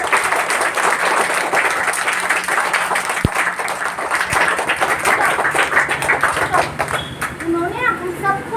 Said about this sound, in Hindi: तो हम सभी सर्वपल्ली राधाकृष्णन के लिए तालियां बजाएंगे